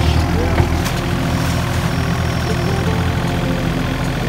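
A tractor engine runs steadily while land is being cleared, a continuous low idling rumble held close and loud for the whole stretch, with faint voices underneath.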